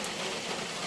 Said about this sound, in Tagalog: Ay umuulan pa kasi.